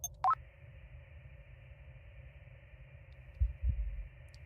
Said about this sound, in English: Heartbeat again.